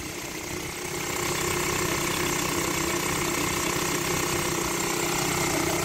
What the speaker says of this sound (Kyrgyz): Тыптын иштейт мотор.